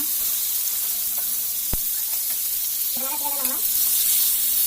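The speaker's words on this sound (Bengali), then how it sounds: "মাছগুলো আমার ভাজা হয়ে গিয়েছে" Pangas fish pieces frying in hot oil give a steady, bright sizzle that fills the whole stretch, with a single sharp clink partway through and a brief faint squeak later on.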